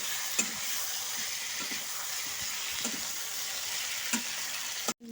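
Potatoes with fenugreek leaves and ground spices fry in a pan with a constant close sizzle, broken by a few sharp scrapes of a spatula stirring the mix, then a clatter at the end.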